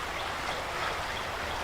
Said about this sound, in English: Got the sound of the creek over here.